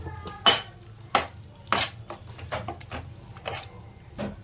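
Metal spoon scraping and clinking in a pan while tomato puree with a little chili powder is stirred and fried for Rayalaseema uggani, giving several sharp, close clanks spaced irregularly, with faint sizzle between them.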